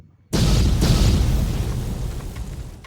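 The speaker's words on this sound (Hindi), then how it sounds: "एक जोरदार धमाके के साथ उसका अंत हो गया था माडूंगा का।" A loud explosion bursts suddenly, then a deep rumbling roar slowly fades.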